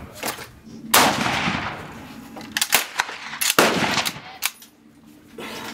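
Mosin Nagant rifle shots at an outdoor shooting range: several loud, sharp cracks spaced a second or so apart, each with a ringing, decaying tail, heard close by.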